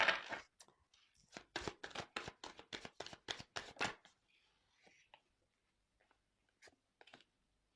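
Tarot cards shuffled by hand at close range, a fast run of crisp flicking riffles for about four seconds, followed by a few faint card taps and slides in near quiet.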